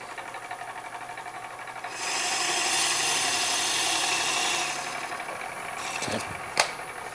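Hollowing scrape cuts on a wood lathe with a Carter Perfect Sphere cutter, a steady whirring spin with a rougher scraping rasp swelling for a few seconds mid-clip, then a sharp knock near the end.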